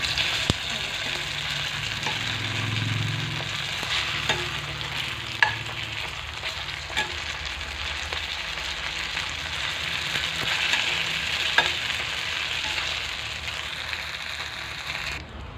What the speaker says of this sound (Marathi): हे पॅटीस आपले ब्राऊन कलरमध्ये तळलेले आहेत